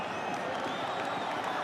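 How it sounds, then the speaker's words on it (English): A big stadium crowd at a Top 14 rugby semi-final between Stade Francais and Bordeaux Begles gives off an angry, steady roar, a dense wash of voices with no break. "The crowd are furious."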